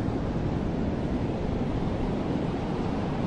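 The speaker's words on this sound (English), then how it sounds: "with the sound of the waves coming from the sea." Sea waves break on a sandy beach in Illawarra, New South Wales, a continuous close wash of surf with wind noise and no voices.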